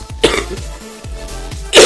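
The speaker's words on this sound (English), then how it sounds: "I survived through the coughs." Several hard, close coughs in a row with short gaps between them, fairly loud and with no talk over them, ending in one last bursty cough.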